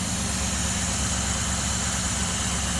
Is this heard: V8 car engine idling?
yes